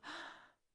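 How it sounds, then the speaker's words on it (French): A deep breath drawn in during a calm children's breathing exercise, a single breathy intake swelling quickly and fading away over less than a second, close and soft, with no talking. "On inspire. Inspire avec moi."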